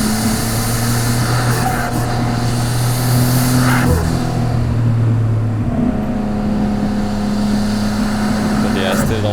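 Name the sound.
Nissan Skyline R32 GTR driving through corners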